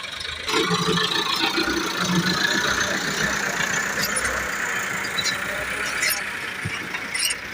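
Tractor engine working at a dike construction site while digging soil, a steady rumbling drone that holds throughout, with someone talking over it.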